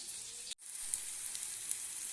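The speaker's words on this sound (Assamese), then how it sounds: "এতিয়া মই মছলাখিনি তেলত এনেকৈ ভাজি লৈছোঁ" Steady, close sizzling of masala spice paste frying in hot oil after potatoes were fried, with a brief dropout near the start before the crackle resumes.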